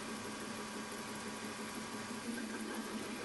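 Machine reaming a quarter-inch hole at 300 RPM during a Webster engine build, a steady continuous mechanical hum and whir with no pauses, close and fairly quiet.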